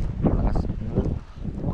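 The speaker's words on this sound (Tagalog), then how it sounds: "lakas naman ang hangin." Strong wind at the beach buffets the microphone with a continuous loud, gusty roar, rustling and rumbling throughout without a break.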